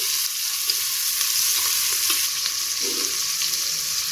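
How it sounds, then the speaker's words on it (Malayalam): Onions fry in a pan for mushroom biriyani as chopped tomatoes go in, giving a steady, close, loud sizzle that never lets up, with faint stirring scrapes now and then. "എന്നിട്ട് തക്കാളി ഇട്ട് കൊടുക്കാം"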